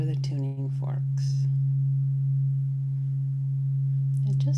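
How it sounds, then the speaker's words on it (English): Tuning forks ringing as a pure, steady low hum that holds unbroken throughout, with a few brief soft sounds over it at the start and end. "you should be able at this point to hear the tuning forks"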